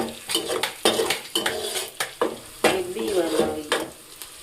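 Chili and spices sizzle as a tempering in a pan while a metal spoon stirs and clinks against the vessel, close and loud with irregular scraping strokes and bursts of frying.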